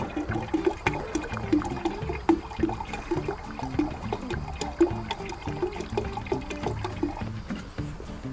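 Nettle macerate is poured into a container holding about 15 litres of water, giving a continuous splashing, gurgling pour with uneven bursts, close by and without talk.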